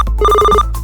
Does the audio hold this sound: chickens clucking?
no